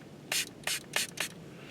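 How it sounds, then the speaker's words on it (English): Small handheld spray bottle filled with plain water, squeezed four times in a quick even rhythm, each a short sharp hiss, heard close up with no talking. "I got my little spray bottle filled up with regular water."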